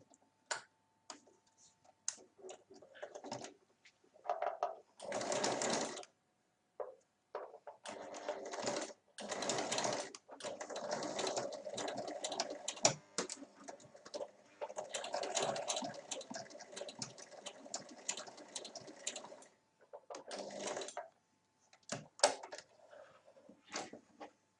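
A sewing machine stitches a fabric pouch in repeated bursts of rapid mechanical whirring, separated by short pauses and small clicks of handling, close and clear.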